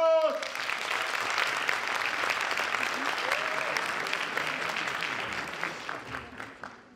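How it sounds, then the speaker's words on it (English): Audience applause greets the first speaker at a Schneider Electric event on automation and energy management, a steady, dense clapping from a large room that holds for several seconds before tapering off. "Let's have a big applause"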